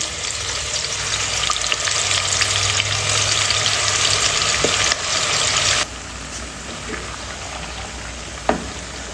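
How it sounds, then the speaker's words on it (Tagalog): Chicken pieces frying in oil in a pot for Filipino goto, a loud, steady sizzle and crackle that runs throughout with occasional spatters, easing slightly partway through. "Prituhin muna natin yung ating chicken."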